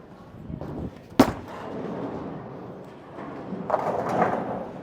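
A Motiv Jackal Onyx bowling ball is thrown down a lane, with one sharp crack as the ball lands, a long low rolling rumble, then a clattering crash of pins near the end, heard alone in a reverberant alley.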